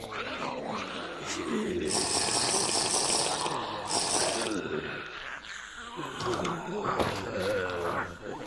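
Water gushes and pours in the survival video game Deceased Craft, a steady rushing fill with bursts of bright splashing, layered under someone talking and some low growly game noises.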